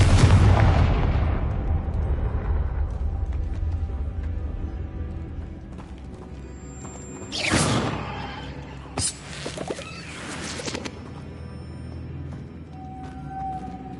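A Confringo fire spell explodes in Hogwarts Legacy on PS5: a loud rumbling blast opens, fades into a low roar, then two sharp bursts follow a few seconds later.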